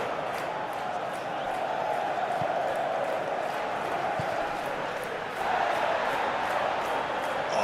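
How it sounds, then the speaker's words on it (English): Stadium crowd in a football video game, a steady dense roar of cheering that carries throughout and swells louder near the end, with no commentary heard over it. "Well, the crowd clearly like what they just saw."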